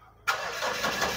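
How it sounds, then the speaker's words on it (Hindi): A car engine cranks and catches after a short silence, then settles into a steady mid-pitched idle, close and fairly loud, during a check of a car with an accelerator pedal pickup problem. "और अभी स्टार्ट करेंगे गाड़ी"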